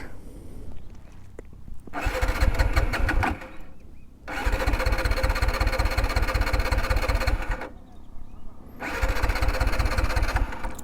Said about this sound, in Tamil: கடைசி இன்னொரு டைம் ஸ்டார்ட் பண்ணி பார்க்கலாங்க, ஸ்டார்ட் ஆகுதான்னு பார்ப்போம்.